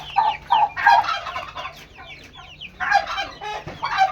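Chickens cluck repeatedly in short, uneven bursts at a relative's place where fowl are kept, loud and close, with a steady low hum underneath and no talking.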